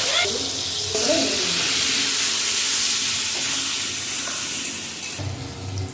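Salted, cleanly cut potatoes drop into hot oil and hiss into a loud, steady sizzle that holds for several seconds before easing off, with a faint voice at the start.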